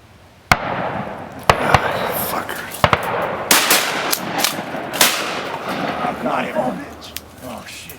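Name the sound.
shotgun shots while duck hunting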